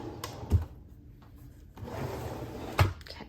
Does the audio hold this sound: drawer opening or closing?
yes